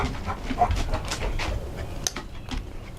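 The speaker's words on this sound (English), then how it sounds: "The dog is running around. He smells the groundhogs, I think," A dog runs around nearby, panting in quick rhythmic breaths with faint whimpers and scuffling, fairly close and moderately loud, with no talking.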